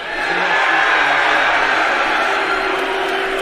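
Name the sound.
crowd cheering at UFC 285 press conference in Las Vegas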